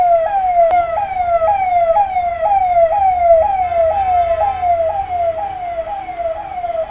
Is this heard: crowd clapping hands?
no